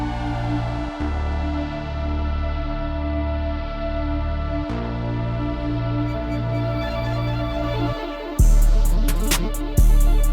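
Beat intro built on a simple funk bass synth preset, with steady looping bass notes and layered synth tones; a short break near the end leads into a louder, fuller section with added drum hits. No talking.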